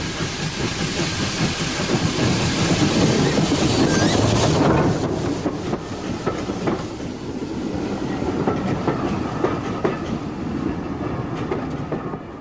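An ex-LMS tank steam locomotive rolls into a station on the Forth Valley Railway near a mining museum, wheels clattering steadily over rail joints, loud and close throughout with a heavier rumble early on.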